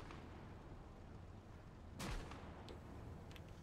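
A Soviet anti-tank weapon fires once in the Gates of Hell: Ostfront war game, a single sharp blast midway through a quiet background hum, followed by a short fading echo.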